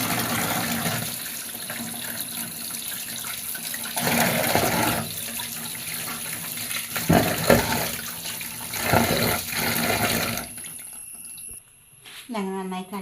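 Chayote washed under a running kitchen tap, water splashing and gurgling steadily while a voice talks over it, ending with the flow cut off and a short burst of speech.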